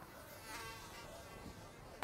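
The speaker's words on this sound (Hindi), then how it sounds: "साला बहुत मच्छर है इधर तो।" Mosquitoes whine and buzz steadily near the ear in a quiet outdoor scene under a tree, a faint high drone that ends with a sharp closer buzz.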